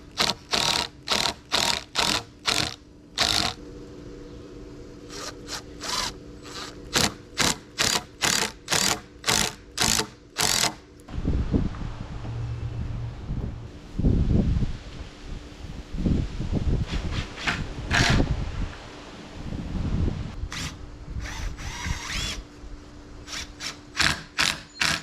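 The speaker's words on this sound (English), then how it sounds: "we're just going to screw it together with our 3-inch deck screws" 3-inch deck screws being driven into the wooden box of a raised garden bed: a fast run of sharp, evenly spaced mechanical ratcheting bursts, then a looser stretch of rattling, shifting and handling noise, with more quick bursts near the end.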